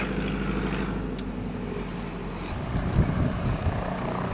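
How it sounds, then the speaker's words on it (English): A ski plane flies in to land on a quick drop-in visit, its propeller engine a steady low drone that swells slightly toward the end, heard alone with no talking. "Got a bloody ski plane coming in."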